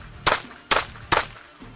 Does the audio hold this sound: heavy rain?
no